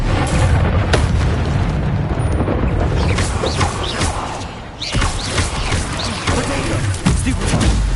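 Spell effects and combat bursts from Hogwarts Legacy on PS5, a dense, continuous mix of loud booms and blasts with sharp crackling hits throughout, as a disarming spell is cast amid ongoing magical fighting.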